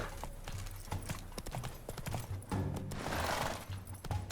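A horse gallops in the Witcher 3: Blood and Wine tourney, its rapid, rhythmic clip-clop hoofbeats driving steadily over game ambience, with a louder rushing swell partway through.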